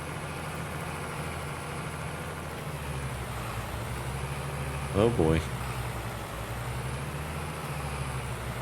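A farm tractor's engine in Farming Simulator 22 drones low and steady while bogging down in deep snow, a continuous heavy rumble with a brief louder surge midway as a voice briefly exclaims.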